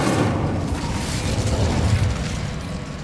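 Incendio fire spell in Hogwarts Legacy: a sustained, roaring whoosh of flame with a deep rumbling body, loud and close, fading slightly toward the end over a few seconds.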